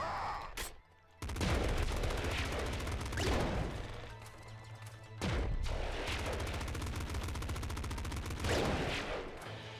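Dense, rapid gunfire and explosive bursts from the video game Nuclear Throne, loud and close, in heavy volleys separated by brief lulls.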